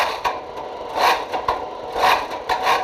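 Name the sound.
Jaguar XFR supercharged 5.0 litre V8 exhaust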